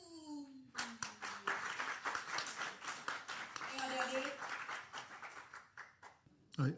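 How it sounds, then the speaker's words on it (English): Audience applause for student performers at a livestreamed anniversary celebration, a burst of clapping swelling after a few spoken words and carrying on with faint voices underneath before fading. "Please give a big applause to the students from Toisapu."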